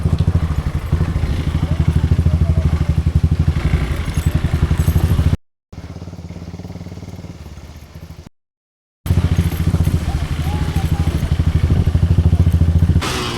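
A motorbike ridden along an off-road dirt trail to Rajmachi near Lonavala in the rainy season, its engine thrumming steadily and close with clatter and thumps from the rough ground, cut by two brief gaps.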